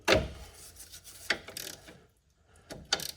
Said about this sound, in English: 18mm wrench to hold the nut in place, and we are going to tighten